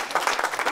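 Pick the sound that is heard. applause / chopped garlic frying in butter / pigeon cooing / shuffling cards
applause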